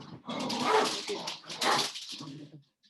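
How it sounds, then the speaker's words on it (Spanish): Several dogs bark and whimper together in loud overlapping bursts close by, with a short pause before the barking resumes. "Disculpar mis perros"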